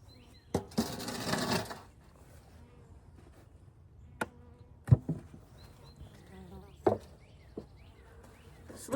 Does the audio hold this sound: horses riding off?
no